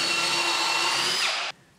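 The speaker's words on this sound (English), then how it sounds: "So I'm going to go straight through with this drill bit." A power drill bores straight through a wooden batten being fixed to a wall, giving a steady, loud, close whine that holds for over a second, dips slightly in pitch near the end, then cuts off abruptly.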